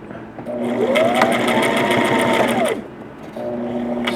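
A sewing machine stitching a Green Lantern costume runs in a loud, steady whir of fast stitches for about two and a half seconds, pauses briefly, then starts up again, heard close and alone.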